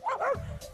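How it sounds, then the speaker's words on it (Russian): An Azawakh dog barks aggressively, one short sharp bark followed by a low growling tail, close and loud. "Он стремительно превращается в агрессивного пса."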